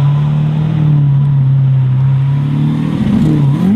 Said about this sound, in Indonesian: Di sini ada mobil balap.